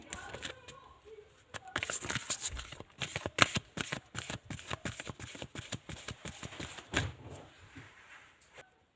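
A deck of tarot cards is shuffled by hand in a quiet room, giving a close run of quick riffling flutters and soft slaps. It is steady at first, then tapers off.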